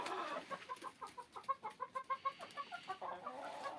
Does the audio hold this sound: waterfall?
no